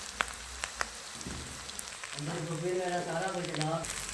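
Chicken kebabs fry in a pan with a steady, soft crackling sizzle that grows fuller partway through. Someone talks over the frying and a few light clicks come before it.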